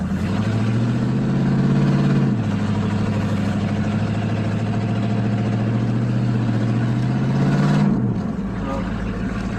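A 2002 Ford Ranger fitted with a 351W V8 runs with a slipping transmission, its engine droning loud and close, the pitch stepping down and holding before sagging again near the end.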